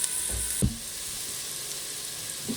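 Celery and onions soften in a pan with a quiet, steady sizzle, a few soft knocks of a utensil against the pan breaking through near the start and end.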